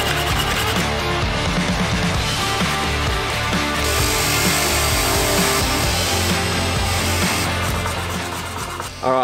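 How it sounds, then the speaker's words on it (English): A bench grinder cleans the contact points of a 4x4 winch, making a loud, continuous harsh grinding that holds steady for several seconds before easing slightly near the end. "we've got one that I've just cleaned up quickly on the bench grinder"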